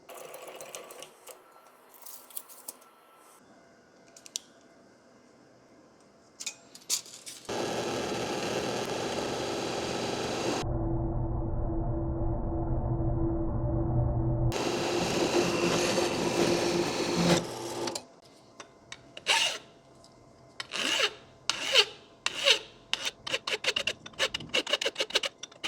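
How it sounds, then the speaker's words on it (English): A metal-cutting bandsaw cuts through aluminum extrusion for a plasma cutting table frame, giving a loud, steady mechanical drone for about ten seconds, with quieter clicks and handling noises before and after. "I'm going to be using a metal cutting bandsaw."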